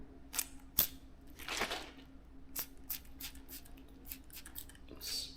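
A spray bottle spritzing a short burst of hissing mist close by, surrounded by sharp clicks and plastic handling noises.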